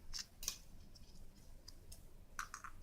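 Small snips and clicks as cutters trim off a section of thin coil wire while building a vape coil on a Steam Crave Aromamizer RDTA V2, faint and close, a few crisp ticks scattered over quiet background.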